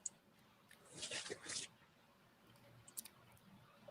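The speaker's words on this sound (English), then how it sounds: "And Vashi, we're hearing a lot of clicking on your end." Rapid computer mouse clicking on a remote call participant's end, a burst of dense clicks near the start and scattered sharp clicks later, faint and close, with no talk over it.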